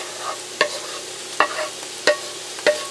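Fried ground chicken and mushrooms being stirred together in a pan, four sharp spoon scrapes against the pan at a slow, irregular pace over a faint sizzle, close and moderately loud, with no talking.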